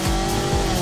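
Loud, close exhaust drone from a Scion tC with a modified exhaust, a dense low rumble with pitch sweeping up and down in a very short burst.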